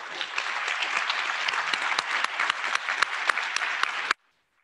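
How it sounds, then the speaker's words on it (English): Audience applause at a school board candidate forum, a dense sustained clapping from a crowd that carries steadily for about four seconds before stopping abruptly into silence. "If we can please show our appreciation to the candidates with a round of applause."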